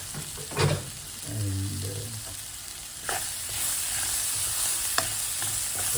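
Spices such as mustard seeds tempering in hot oil for a Sri Lankan beef rib curry, giving a continuous close sizzle with occasional stirring scrapes and clinks; a voice briefly speaks.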